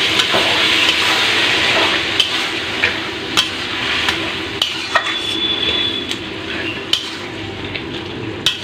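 Water goes into a pan of cabbage and crab curry, bringing a steady bubbling hiss broken by sharp, regular clicks of a utensil knocking against the pan, close by and with no voices.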